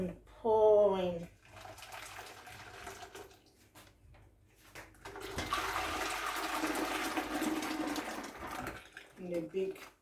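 Liquid poured from a pot through a muslin cloth into a large saucepan while making tofu at home, a steady rushing splash for several seconds after a brief voice, tapering off near the end.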